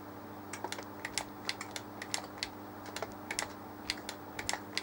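Keys are pressed on an Amiga 1200 keyboard in quick, irregular bursts of sharp plastic clicks, close and fairly quiet, with no talking.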